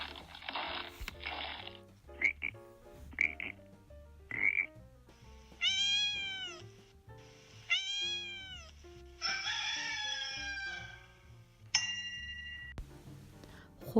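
A pair of cats meow in a children's story scene, several drawn-out meows rising and falling over a musical background with chimes and other animal sounds, no talking.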